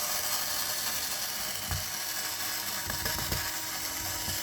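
Small 2.0 mm screws on a Traxxas Maxx 4S RC truck are loosened with a hand driver, giving a few faint clicking, ratcheting turns over a steady background hiss. No voices.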